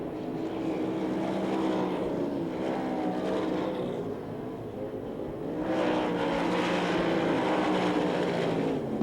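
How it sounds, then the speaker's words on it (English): Sprint cars race around the dirt track at the Knoxville Nationals, a loud continuous engine roar that swells and fades as the cars pass, with no speech over it. "Tyler Walker extending his advantage as he works down the long back chute into turn 3"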